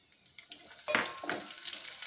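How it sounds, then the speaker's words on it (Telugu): Dry fruits sizzling and frying in a pan until golden for coconut payasam, with soft stirring scrapes and a steady close crackle, no talk. "డ్రై ఫ్రూట్స్ ఏంటంటే మనకు గోల్డ్ కలర్ వచ్చేటంత వరకు వేపుకోవాలి"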